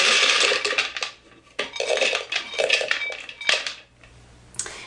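Raw almonds and medjool dates tumble into a food processor bowl, making clattering, rattling bursts with short pauses between pours, loud and close.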